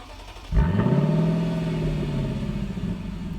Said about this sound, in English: The 471 horsepower V8 engine sounds spectacular while you're driving, when you start up